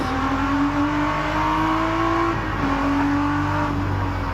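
A Group A BMW race car engine at full throttle on the Bathurst circuit, a loud, steady close roar that dips briefly and rises again as the car drops into a right-hand corner.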